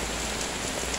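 Water rushes steadily through a cleared drainage channel during rain, making a dense, continuous hiss and splash up close with no break or change.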